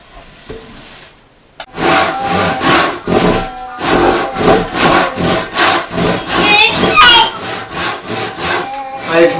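A handsaw cuts timber for a timber-frame brace; after a quiet start, loud, close back-and-forth strokes rasp in a steady rhythm of about a dozen passes.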